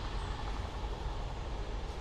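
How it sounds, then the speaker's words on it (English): A train rolls past near the Kidsgrove woods as a steady, close, low rumble that holds at an even level throughout, with no voices. "Got another train."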